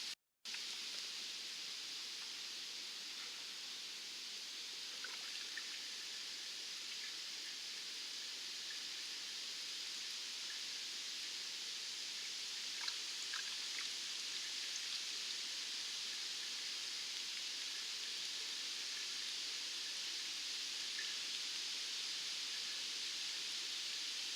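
Water drains out of the plumbing of an RV during winterizing as a steady, faint, hissing trickle that continues unbroken after a brief click at the start.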